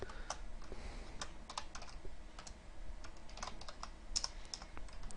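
Computer keys clatter in quick, irregular bursts of close, crisp clicks, with short pauses between runs of keystrokes while code is being entered.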